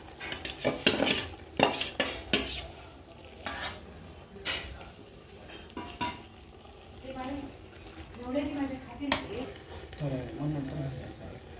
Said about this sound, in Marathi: आता आपण भाजलेला हा आळू ह्याच्यात घालायचा